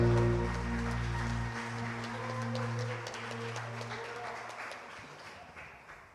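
Congregation applauding during an evening church service, dense sustained clapping under organ or keyboard chords that cut off early, the applause gradually thinning and fading out.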